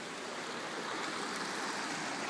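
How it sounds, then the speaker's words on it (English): Newly formed waterfall running beside a road in a ditch on Shofar Mountain, a steady loud rushing hiss of falling water with no breaks. "we got a new waterfall overnight"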